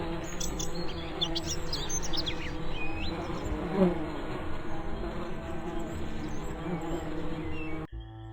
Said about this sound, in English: we get stung to death by bees